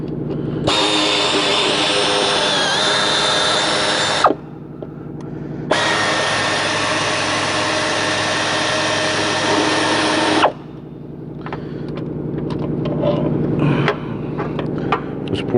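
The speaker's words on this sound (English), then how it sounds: "this poor little air ratchet has seen its better days." A worn air ratchet, its head rebuilt several times, buzzes loudly in two long sustained bursts with a short pause between, then fades into quieter shop clatter and rattling; it runs alone without talk, on a repair of a Ford Escape's Duratec 3.0L engine.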